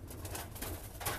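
A pigeon gives low, soft cooing pulses close by while struggling, a brief throaty murmur without any talk.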